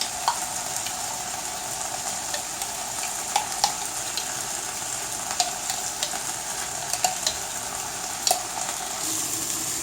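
Onion and pepper sizzle steadily in a frying pan with tomato paste being added, a continuous hiss broken by scattered sharp crackles and pops from stirring, close and fairly loud with no talking.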